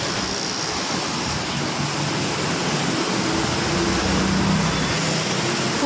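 A water feature beside the entrance of the Green Leaf Gaimukh hotel in Thane gives a steady, close, broadband rush of splashing water that holds level throughout, with no voices over it.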